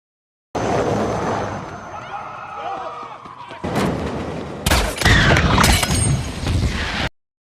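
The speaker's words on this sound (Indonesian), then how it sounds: "dan adu tembak pun tak terelakkan" Gunfire from a sniper movie shootout bursts out in loud, close cracks and booms mixed with slams and crashing debris, over a dramatic background score.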